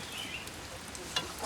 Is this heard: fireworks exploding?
no